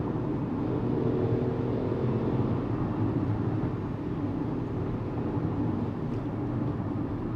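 Engine of a Tata Punch with a manual gearbox, heard from inside the cabin as a steady, muffled low drone and road rumble that stays even throughout.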